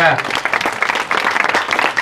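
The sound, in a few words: audience applause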